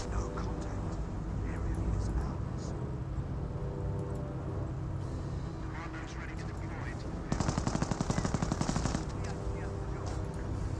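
Sustained battle gunfire in the video game Company of Heroes, with rattling machine-gun bursts over a constant din of combat and a sharp, close rapid-fire burst late on, while a commentator talks throughout.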